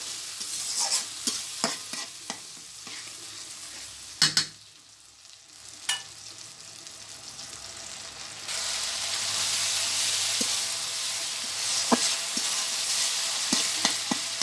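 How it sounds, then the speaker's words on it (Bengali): Spice paste with green and red chillies frying and being stirred in a pan, with clicks and knocks from the spoon, then a louder steady sizzle taking over midway. "মশলাটা আমি খুব ভালোভাবে কষিয়ে নেব"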